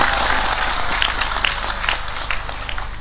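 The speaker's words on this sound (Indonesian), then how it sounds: "Tepuk tangan untuk Kaliwungu" Large crowd applauding at an evening religious gathering in a stadium: loud, dense, continuous clapping and crowd roar, fairly steady with slight swells toward the end.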